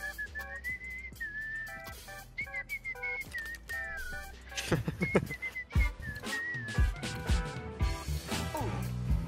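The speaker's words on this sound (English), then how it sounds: "Yo, can you whistle more?" A person whistles a bright, wavering tune over a game voice chat in Counter-Strike 2, with short melodic phrases and a few pauses. Partway through, a loud rhythmic beat comes in and plays under the whistling.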